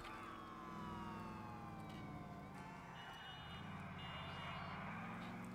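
An ambulance siren wails in GTA IV The Lost and Damned, its rising and falling tones sweeping continuously at moderate loudness over engine rumble and traffic noise.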